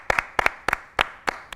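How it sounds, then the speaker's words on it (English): Hands clapping up close, a handful of sharp claps in quick uneven pairs, loud and dry with no voices. "I'm so used to clapping for myself."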